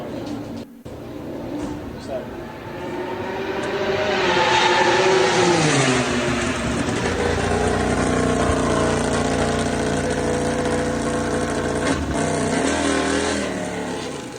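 Loud MotoGP racing motorcycle engines roar and rev continuously at preseason testing in Qatar, pitch rising and falling as bikes pass close by, a dense sustained racing drone.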